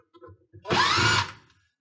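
Power drill loosening Torx screws on a KitchenAid dishwasher pump gives one steady whirring burst of about half a second, close and clear, set apart by faint handling clicks before and after.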